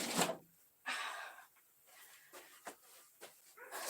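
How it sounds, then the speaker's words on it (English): A loud dog barks outdoors, heard from inside as a few separate muffled barks and whimpery yips spread irregularly over a few seconds. "that dog, right? How would you like to be out there with him?"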